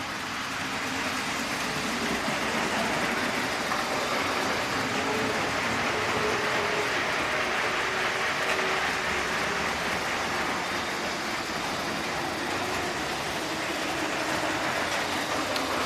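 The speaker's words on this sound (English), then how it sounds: "3 trains running at the same time." Steady rumble and rolling clatter of three model trains running at the same time on a layout, a constant mechanical whir with no voices.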